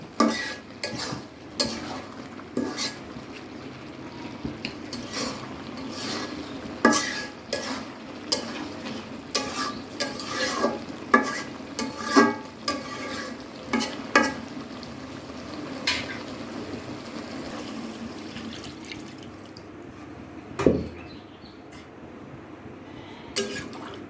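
Curry cooking in a pan as broth is poured in, with repeated spoon scrapes and clacks over a low simmering sizzle, close and uneven in rhythm, no speech.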